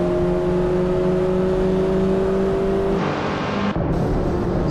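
Mazda MX-5 and Abarth race cars lapping Tsukuba Circuit in a racing video game, with a loud, steady engine drone held at high revs, then a sharp shift in pitch as a car goes by up close.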